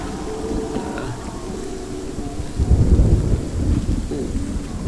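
Thunder rolls through Helheim, the land of the dead in the video game Hellblade, a low rumbling storm that swells to a heavy peak midway, with rain and wind beneath.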